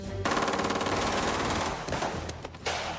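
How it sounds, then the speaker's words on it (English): Military-grade weapons, a pump-action shotgun and a bullpup gun, fire at an outdoor shooting-table challenge, producing a rapid, dense barrage of loud cracking shots that thins out near the end. "That's Ali on the pump-action shotgun. Lisa Shea's firing the bullpup gun."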